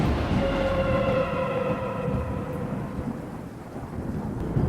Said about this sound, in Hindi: बारिश और आंधी भी